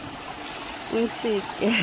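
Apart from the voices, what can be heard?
mountain stream water flowing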